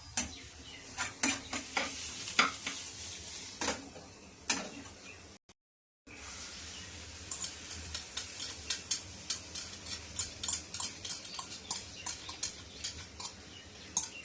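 Eggs sizzle in a pan with browned onion for egg bhurji, a steady frying hiss broken by repeated sharp scrapes and taps of a spatula stirring. A brief silent gap interrupts it before the rhythmic stirring resumes, close and clear, with no voices.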